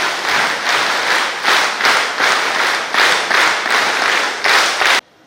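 Audience claps in rhythmic bursts at a poster release during a de-addiction gathering, loud and close, swelling in repeated waves before stopping abruptly.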